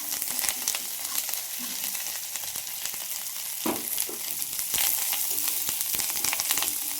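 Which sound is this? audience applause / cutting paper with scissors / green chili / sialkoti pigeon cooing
green chili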